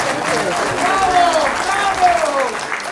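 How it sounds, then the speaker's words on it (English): Audience applause for a concert band at a Memorial Day gathering, a steady clapping wash with a voice talking over it throughout. "Everybody stand up and give them a wonderful round of applause."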